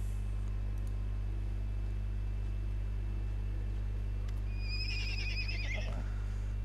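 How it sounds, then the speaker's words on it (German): Scared ponies in the fantasy video game Pathfinder: Kingmaker neigh in a shrill, wavering whinny near the end, over a steady low ambient hum with no talk. "A pair of scared ponies stands before you. They don't run away, but they snort loudly and neigh as you approach."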